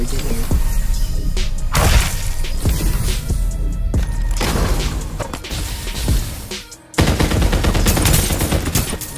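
Loud gunfire in the shooter game Farlight 84, with repeated heavy bursts and sharp impacts close by, a brief lull near the end, then more rapid fire.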